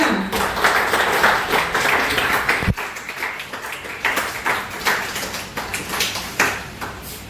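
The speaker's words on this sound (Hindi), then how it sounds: "उस पर जोरदार तालियां" An audience at a National Technology Day celebration at Millia Institute of Technology gives scattered, uneven handclaps. Sharp individual claps stand out over a room-filling clatter that thins in places.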